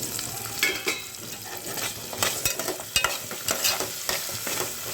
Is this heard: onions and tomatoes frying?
yes